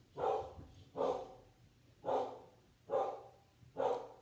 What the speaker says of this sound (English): my dog loves to bark.